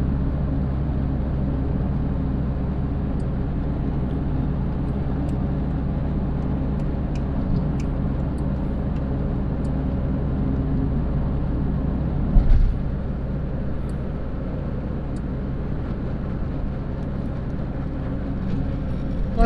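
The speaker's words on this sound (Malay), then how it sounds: "Ini lori tinggi." A tall lorry drives along Jalan Changkat Keruing, its deep, steady road rumble filling the whole stretch at a constant level, with a brief louder bump midway.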